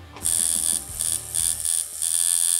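Rotary or coil tattoo machine buzzing steadily with a high, bright whine and a low motor hum, loud and close, running in short pulsed bursts with brief dips between them.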